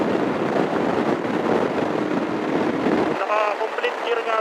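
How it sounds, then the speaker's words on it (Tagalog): Loud, steady wind buffeting the microphone of a motorcycle rider on the NLEX expressway in the Philippines, roaring broadband rush for about three seconds before the low rumble drops away and a voice begins speaking over lighter wind. "Pag ganito sa NLEX, ang lakas ng hangin, grabe."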